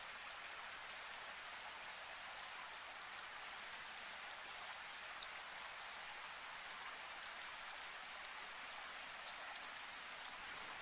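Steady, faint rain falls in a grey, rainy Costa Rica setting of a horror video game, a continuous hiss with scattered droplet ticks and no voices.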